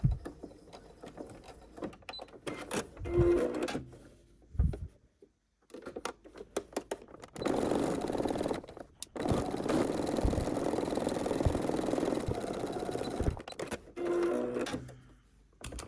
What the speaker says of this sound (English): we have now sewed this here at the top edge